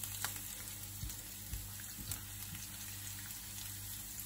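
Green beans and carrots sizzle steadily in a frying pan, a soft continuous hiss and crackle broken by a few faint clatters, with no voices.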